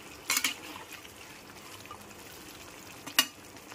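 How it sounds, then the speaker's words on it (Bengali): Chicken korma gravy is stirred in a pot after salt goes in, giving a soft, wet bubbling and mixing sound with two short louder scrapes of the spoon, near and fairly quiet. "লবণটা দেওয়ার পর আরেকবার ভালো করে মিশিয়ে নেব।"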